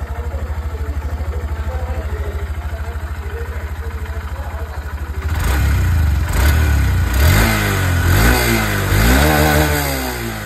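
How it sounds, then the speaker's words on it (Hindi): A motorcycle, one of the sub-1.5 lakh Indian bikes such as a Pulsar N160 or Apache 160 2V, idles steadily through its exhaust, then is revved hard several times in rising and falling bursts, loud and close, with no one speaking. "अगर मैं आप लोगों को यहाँ पर इसके एग्जॉस्ट साउंड सुनाऊँ तो ये भी आप लोग यहाँ पर बिल्कुल सुन लीजिए।"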